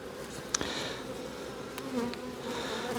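Honeybees buzz around an open beehive during a hive inspection, a steady close drone with individual insects zipping past the ear now and then, and no talking.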